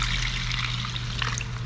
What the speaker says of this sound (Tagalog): lagyan na natin tubig